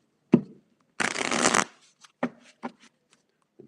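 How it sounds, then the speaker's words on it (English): Tarot cards being shuffled close up: a sharp tap, then a brisk riffle of about half a second, followed by several soft, separate card taps in a quiet room. "and let's shuffle away"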